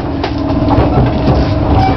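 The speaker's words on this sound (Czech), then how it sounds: "Vláček nám trošku cuká" A small battery-powered tourist train rolls steadily along a Greek seaside route, a continuous loud rumble with faint clicking and jolts, no voices.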